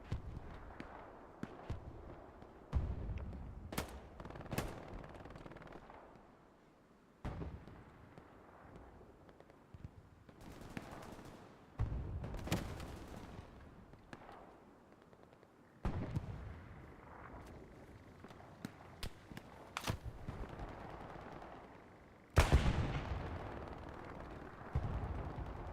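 In the World War II shooter Hell Let Loose, distant gunfire and explosions crack and boom at long range. The shots come in sparse, irregular bursts with faint rumbling between them, and the overall level is low.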